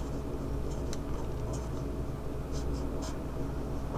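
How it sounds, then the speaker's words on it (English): A pen scratches on paper while the structure of butane is drawn by hand, giving faint intermittent strokes over a steady background hiss with no talking. "I'm just going to draw it for you right here."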